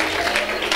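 Brief burst of congregational applause inside a church service in Brownsville, Texas, a dense steady clatter of many hands at close range with no voices over it.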